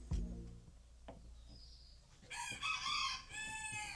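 A rooster crows once, loud and fairly near, after a short mechanical knock and a few faint clicks. No one speaks.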